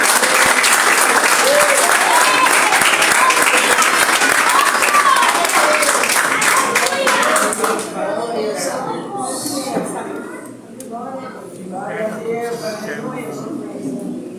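A church congregation at a family service in Bauru applauds, dense clapping and voices at full strength for about eight seconds before thinning into scattered claps under ongoing speech and murmuring.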